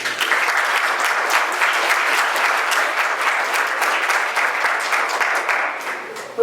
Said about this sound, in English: we want to give you a really roaring round of applause.